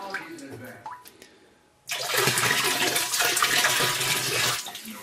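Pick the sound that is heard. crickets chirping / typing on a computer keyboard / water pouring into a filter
water pouring into a filter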